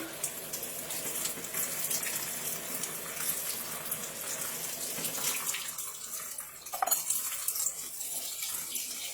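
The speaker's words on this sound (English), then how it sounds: "Just rinse all the chicken with cold water all the time." Cold tap water runs steadily over raw chicken in a kitchen sink, a continuous close gushing wash that thins toward the end, with a brief splash near the finish.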